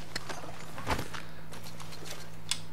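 Horse hooves clopping at a walking pace on a hard, snowy surface in Red Dead Redemption 2, a few uneven steps over a low steady hum.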